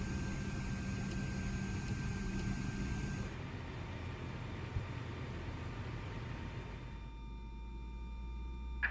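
Engine 1 of an Embraer E170 spools up in a flight simulator game, a steady broadband roar with tonal whine that changes character partway through, with no talk.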